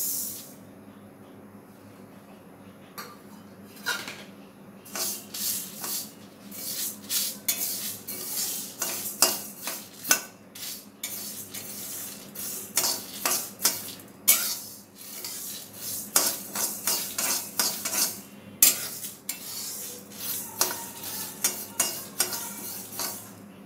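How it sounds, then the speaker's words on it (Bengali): Spices are stirred in a wok on a gas stove while making raw mango pickle, a rapid series of scraping and clinking metal strokes over a soft sizzle, loud and close, with uneven rhythm throughout. "এরপর আমি এই মশলাগুলো হালকা নেড়ে নেব"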